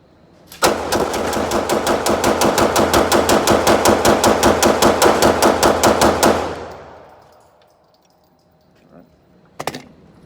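A freshly built Glock 17 pistol fires steel case ammo in a rapid string of around thirty sharp, evenly spaced shots lasting several seconds, followed by a quiet tail and a couple of faint clicks.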